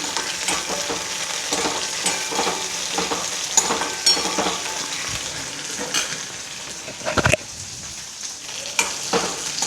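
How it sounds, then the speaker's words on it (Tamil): Okra sizzles and sautés in a pan for tamarind kuzhambu, a steady broadband fry with repeated stirring scrapes and one sharper clatter near the end, close and fairly loud with no talk. "இந்த வெண்டைக்காய் நல்லா வதங்கட்டும்."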